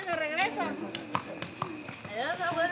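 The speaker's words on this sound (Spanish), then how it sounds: "Ahí va en el caballo, ¿eh?" A horse ridden past in Barra de Cazones, Veracruz gives a few irregular hoof clops that are mostly buried under a talking voice.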